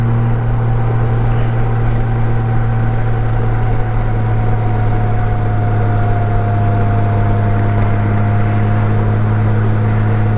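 A motorcycle engine drones steadily while riding, a loud, unbroken hum with a constant low pitch that holds without pause, alone.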